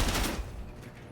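A brief, dense burst of rapid gunfire rings out in a video game during an esports match, loud at first and then fading.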